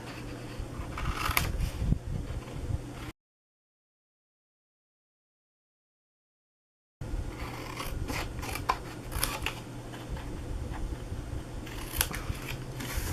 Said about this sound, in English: We are going to cut that whole square off right there, and we're going to cut them on all 4 corners.